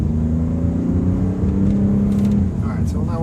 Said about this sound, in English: it knows I'm going up the hill, so the engine keeps running